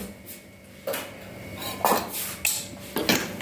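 Raita is ladled into bowls, with a few soft clinks and scrapes of a ladle and spoon against dishes, quiet and close, in separate bursts.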